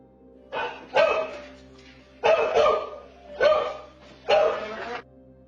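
Dogs bark at two men entering a home as would-be intruders, four separate bursts of loud, close barking with short gaps, alone without talk.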